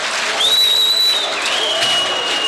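A crowd at a 1993 indoor basketball game between Kochani and Rabotnichki applauds steadily. A thin, high sustained tone rings over the clapping.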